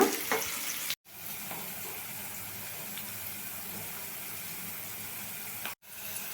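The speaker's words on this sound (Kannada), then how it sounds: "ಗೋಲ್ಡನ್ ಬ್ರೌನ್ ಬರೋ ತನಕ ಚೆನ್ನಾಗಿ ಹುರ್ಕೋಬೇಕು ಇದನ್ನೆಲ್ಲ" Urad dal, chana dal, cumin, green chillies and curry leaves frying in oil in a pan, a steady close sizzle running throughout with faint stirring scrapes.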